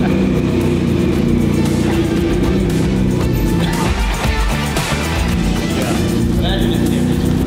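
A car on a test drive runs with a loud, steady engine and road rumble throughout. People talk over the noise close by.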